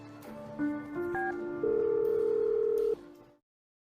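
Phone call tones: a few short dialing beeps step up in pitch, then a long steady tone holds for over a second before cutting off into silence.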